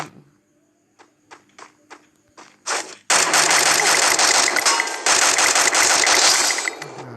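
Video game gunfire, starting with a few scattered single shots and then breaking into sustained loud automatic bursts that fill the second half, with a brief dip midway.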